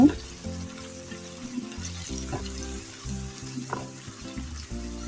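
Onions fry with salt in a pan, sizzling steadily at moderate volume with occasional stirring clicks beneath background music.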